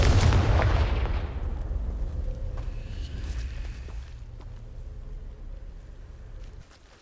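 Confringo fire-blast spell in the game Hogwarts Legacy, a loud explosive boom at the start that rumbles away and fades over several seconds.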